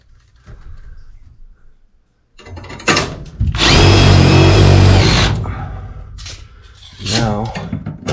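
A power drill drives a screw during a Carrier Vertex coil install, a loud sustained whir of a second or so with lighter tool noise and rustling around it.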